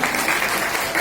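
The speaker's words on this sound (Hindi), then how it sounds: "बोलिए जोरदार ताली बजाओ अपने लिए।" An audience at a devotional kirtan claps together in a dense, loud burst of applause, heard close and filling the brief moment without pause.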